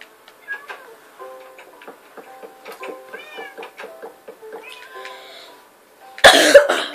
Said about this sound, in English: These are my pet cats.